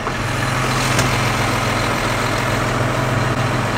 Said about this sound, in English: I'm gonna go grab the loader tractor and pick some stones again